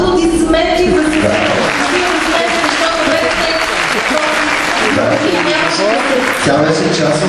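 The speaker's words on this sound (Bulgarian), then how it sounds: "Аплодисменти за Сесил." Loud, sustained applause from a concert audience at a singing competition fills the hall continuously, with crowd noise and voices mixed into the clapping.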